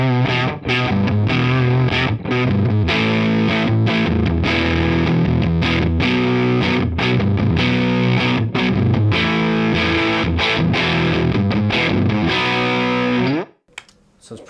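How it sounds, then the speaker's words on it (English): Electric guitar through a Beetronics fuzz pedal on its basic fuzz circuit, a thick, saturated sustained chord-and-riff passage played continuously for about thirteen seconds before cutting off abruptly. "this should just be the pedal with its basic fuzz circuit engaged"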